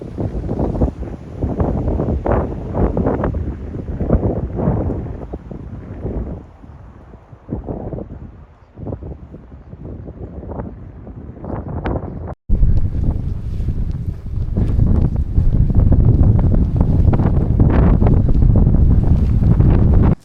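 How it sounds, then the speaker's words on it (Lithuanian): Strong wind buffets the microphone outdoors in southern Japan, a loud continuous roar that rises and falls in gusts, dropping briefly before surging louder and steadier for the second half. "Labai pas mus šiandien stiprus vėjas"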